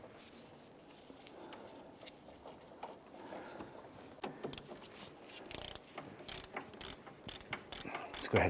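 A ratchet clicks in quick, uneven bursts while a castle nut is tightened on a 1999-2004 Jeep Grand Cherokee front inner tie rod, with faint shop background before the clicking starts.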